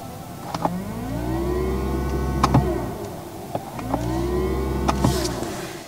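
A Mercedes-Benz EQS electric car plays its synthetic Vivid Flux drive sound under acceleration: two rising, sweeping electronic tones with layered harmonics, each swell ending in sharp clicks, repeating twice over a steady low hum.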